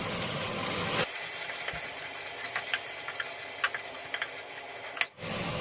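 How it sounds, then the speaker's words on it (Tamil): Mint, coriander and curry leaves hit hot oil while cooking chicken dum biryani, starting a sizzle that begins and stops abruptly, with small crackles and pops scattered through the steady hiss and no talking. "இதெல்லாம் சேர்த்து நல்லா எண்ணெயில் வதக்கிக்குவோம்"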